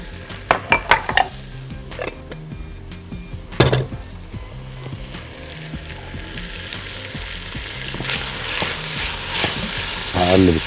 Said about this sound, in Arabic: مكان الفراخ هنزل بالبصل، وهنزل بالفلفل الألوان